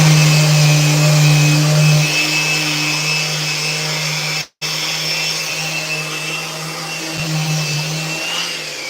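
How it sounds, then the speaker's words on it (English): A DeWalt power sander runs steadily while sanding the edges of skateboards in a workshop, giving a loud, continuous whirring drone with one brief cutout partway through. "This is the DeWalt sander that is a piece of crap, but it'll make thousands of boards before it craps out on me."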